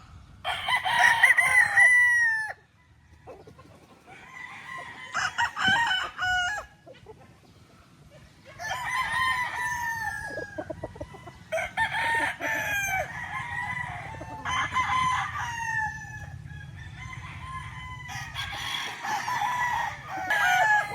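Young stag gamecocks crow repeatedly and loudly, close by, each call a drawn-out cock-a-doodle-doo. The crows come in a steady series roughly every two to three seconds, with faint clucking and farmyard background between them.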